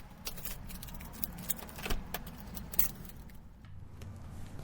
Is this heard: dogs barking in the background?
no